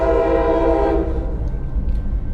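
A CSX freight train horn blares loud and close for about a second, then cuts off, leaving the low rumble of the passing train in Fayetteville, North Carolina.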